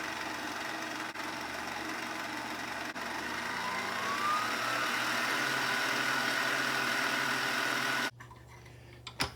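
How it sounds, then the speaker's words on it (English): An electric mixer runs slowly through brownie batter, a steady mechanical hum with a faint ticking rhythm that shifts pitch partway through, then cuts off abruptly near the end. "Now we're going to slow the mixer down"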